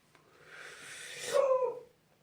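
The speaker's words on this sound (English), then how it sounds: "Alright, so my dog's out there barking." A dog outside in the background: one drawn-out, muffled, whiny bark-like sound that swells and then fades, distant and moderately quiet, with no talk over it.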